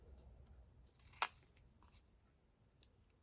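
A single sharp snip of scissors trimming a paper journal insert, brief and fairly close, against a quiet, faint room background with no talk.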